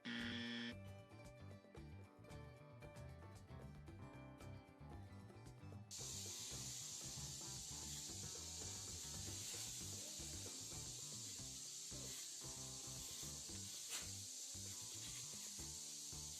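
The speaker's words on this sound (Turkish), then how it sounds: "Bu fıslama düdüklü tencereden geliyor." Low mechanical rumble from a vacuum cleaner, then a strong steady hiss that starts abruptly and continues unbroken at constant loudness.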